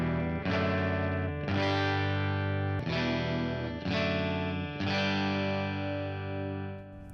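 An electric guitar with heavy distortion, heard in a pickup comparison, strikes five full chords at a steady pace. Each chord is loud and sustained and rings into the next.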